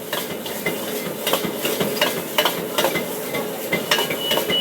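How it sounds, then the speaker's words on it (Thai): Crispy Hong Kong-style pork tossed with Chinese kale in a wok over high heat: a steady close sizzle under rapid, repeated metal scraping and clattering of the spatula, continuous throughout with no talking. "แล้วก็เปิดไฟแรงคั่วแป๊บเดียวเลยครับ ให้เข้ารสกัน"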